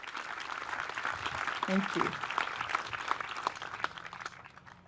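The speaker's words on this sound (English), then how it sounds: "So I'd like you, if you could give them a round of applause." An audience at an artwork dedication ceremony claps in sustained, dense applause that fills the room, fading slightly toward the end while a person briefly speaks over it.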